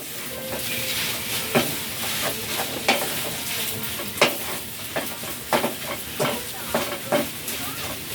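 Egg is stirred into adobo chicken in a frying pan, with a continuous sizzle and hiss under repeated close scraping and clanking strokes of the spoon.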